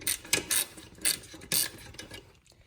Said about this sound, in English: there is a bolt right here that you're going to want to take off